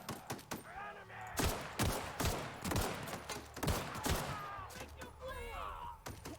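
Repeated gunfire in the video game The Outer Worlds: sharp, loud shots in irregular bursts over about six seconds, with a voice talking intermittently between them and faint game ambience underneath.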